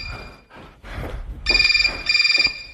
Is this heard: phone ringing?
yes